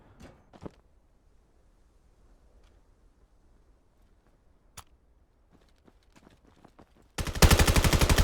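Mostly quiet stretch of a competitive video game match with scattered faint clicks and a single sharp crack, ending in a loud, rapid burst of automatic gunfire over the last second.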